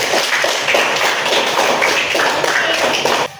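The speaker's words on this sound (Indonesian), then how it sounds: "tepuk tangan untuk semuanya" A class of fourth-grade pupils claps hands together in a classroom, a dense, steady wash of many hands at close range that cuts off abruptly at the end.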